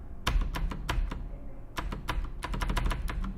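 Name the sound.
computer keyboard space bar tapping while playing a Unity game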